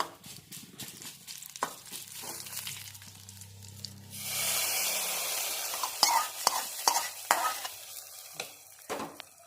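Hot mustard-seed, fenugreek and dried-chili tempering poured into ripe mango pulissery curry sets off a burst of loud sizzling that crackles on for several seconds, with a few stirring clinks before and after.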